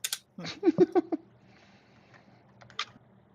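A short burst of computer keyboard typing sounds as a few quick clustered keystrokes, close and fairly faint, then a single later tap, in a quiet room.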